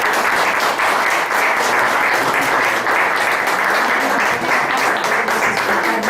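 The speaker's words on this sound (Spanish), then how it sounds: "Un aplauso." Loud, close audience applause at an academic lecture event in Mexico, a thick, unbroken roar of many hands clapping steadily for the whole stretch.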